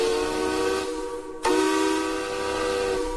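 Steam-powered cider mill machinery at the B.F. Clyde Cider Mill in Old Mystic, Connecticut, in use since 1881. A steady, loud whistle-like steam tone holds with hiss, breaks off briefly and then resumes.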